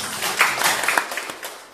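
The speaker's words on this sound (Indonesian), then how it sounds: "Tepuk tangan bagi Yesus." Congregation applause at a church family blessing service in Jakarta, a brief burst of scattered hand claps from a moderate-sized group, fairly close and fading toward the end.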